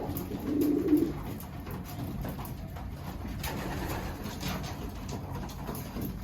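Pigeons coo in a loft as they settle into a new home. One low, soft coo stands out near the start over a constant background hum and rustle.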